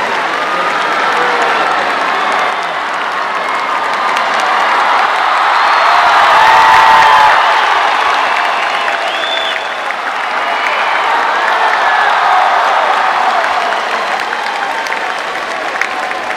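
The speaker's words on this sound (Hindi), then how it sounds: "एक बार पुनः जोरदार तालियों के साथ" Loud, sustained applause from a large audience after a speech at a public event, dense clapping with some cheering rolling steadily throughout and swelling slightly midway.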